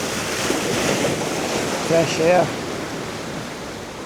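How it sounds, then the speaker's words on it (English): Surf breaking steadily along the Brittany shore at sunset, a continuous wash of waves with wind noise on the microphone, as someone speaks briefly over it midway. "standing out here with the waves coming in"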